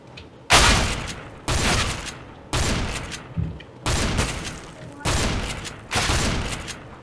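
Nova shotgun blasts in a video game, six loud booming shots at roughly one-second intervals, each with a quick decaying tail.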